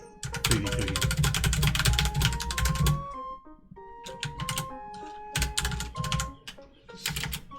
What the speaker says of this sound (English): Y'all can hear my new keyboard.